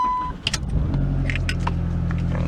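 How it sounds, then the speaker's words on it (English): A Chrysler PT Cruiser cold start: a short chime and a few clicks from the key, then the engine catches and settles into a steady, close, rumbling idle with no talk. "I can do a cold start real quick on both these cars if you want to hear it"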